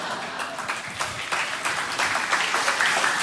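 A church congregation applauding, a steady dense wash of many hands clapping throughout, moderately loud and close, with no clear pauses.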